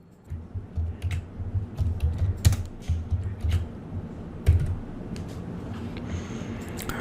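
Keys clack on a computer keyboard as PHP code is typed, a steady run of close, light taps in short bursts with brief pauses and no talk.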